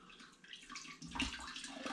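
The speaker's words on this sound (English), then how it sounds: "All the liquid drips back through in there." Liquid trickles and drips through a kitchen sieve as hops and tea bags are strained out of a home-brewed Aperol-style drink. The watery splashing is quiet and close, growing a little fuller partway through.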